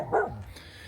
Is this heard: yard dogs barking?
yes